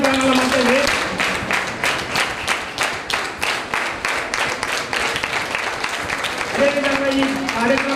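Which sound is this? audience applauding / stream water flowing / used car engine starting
audience applauding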